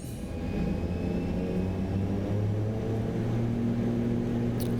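Asobo ATR 42 turboprop in Microsoft Flight Simulator spooling up for takeoff, a steady loud engine drone with rising tonal whine that holds constant throughout, no voices.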